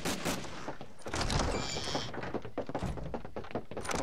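A grenade goes off in the video game Medal of Honor Allied Assault, a dull thunk among sharp bursts of gunfire and impacts, loud and close in a busy, cluttered mix.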